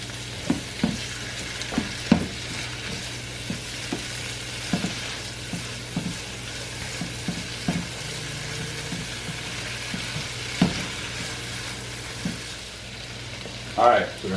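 Sausage, peppers and garlic frying in a pan, a steady soft sizzle under intermittent clicks and scrapes of stirring, moderately near and fairly quiet.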